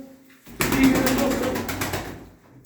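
Pigeons, including speckled blue and grey spotted birds, coo in a close, throaty burst of pulsing calls lasting about a second and a half before fading.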